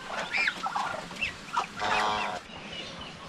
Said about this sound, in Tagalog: May isang gansa na pumunta dyan, oh, sa kulungan ng ating mga pato